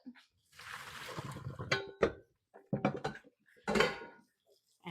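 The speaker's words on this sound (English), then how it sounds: "We're done with this boiling water, so I'm going to just get rid of it." Boiling water splashes and pours out of a pot in a short rushing burst, followed by several sharp metallic clanks of the pot and utensils, close by.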